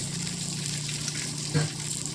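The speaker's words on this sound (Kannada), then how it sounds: "ಅದ್ರ ತುಂಬ ನಾ ಏನು ಮಾಡ್ತೀನಿರಪ್ಪ ಅಂತಂದ್ರೆ ನೀರು ಹಾಕ್ತೀನಿ" A steady rush of water pouring into a cooking pot of stuffed eggplant curry, continuous and fairly close, with a brief muffled voice-like sound near the end.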